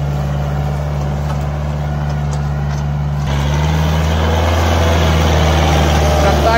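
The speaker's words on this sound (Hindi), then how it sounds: "ट्रैक्टर दूसरा हाई कर दिया।" A tractor engine runs in second high gear with a steady low diesel drone that rises slightly and grows rougher partway through, up close and continuous.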